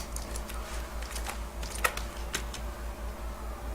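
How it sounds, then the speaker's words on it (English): Quiet typing on a computer keyboard while writing HTML, with soft irregular key clicks over a low steady hum and a couple of slightly sharper taps. "So guys, body part, I am typing"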